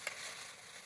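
Bitter gourd fries in oil with a faint, steady broadband sizzle and one small tick near the start, brief and quiet.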